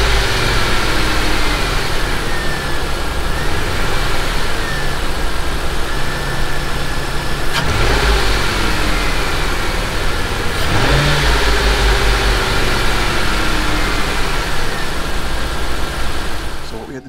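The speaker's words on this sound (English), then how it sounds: "We're going to start it up and see, make sure that all the connections are made and that the throttle's not being pulled on too much." A 2004 Mercury Grand Marquis V8 with a newly fitted throttle body spacer starts and runs steadily, idling loud and close with a couple of sharp revs partway through, and a voice talks faintly over the engine.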